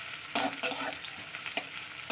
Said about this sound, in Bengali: তেলটা গরম হয়ে গেছে, দিয়ে দিচ্ছি পেঁয়াজ। পেঁয়াজটা একটু লাল করে ভাজা করে দেবো